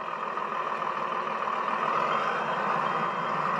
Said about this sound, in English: Get our truck bagged up over here so we can get our grains dumped in.